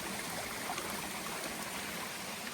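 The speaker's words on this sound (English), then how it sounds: "it's got a good flow all the way down the creek" Creek water flowing steadily on the Appalachian Trail, a continuous broad rushing wash heard near and even, with no other sounds on top.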